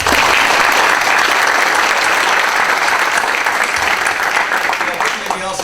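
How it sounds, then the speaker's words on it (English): An audience at a parent education seminar gives a loud, sustained round of applause, thick and steady throughout before easing slightly at the very end, with some voices mixed in. "round of applause first for Tony."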